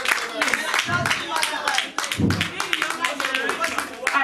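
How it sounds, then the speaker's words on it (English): A crowd claps and applauds steadily throughout at a marriage seminar, with voices talking over the clapping. "Let's clap for this people."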